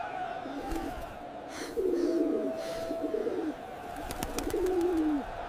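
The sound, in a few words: pigeons cooing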